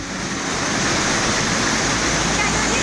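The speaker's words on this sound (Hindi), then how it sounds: "इस शदीद तरीन बारिश की वजह से जो पानी आया है हमारे नाले में" Floodwater rushing through a stream after very heavy rain, a loud, continuous roar of churning water that fills the whole span steadily with no pauses.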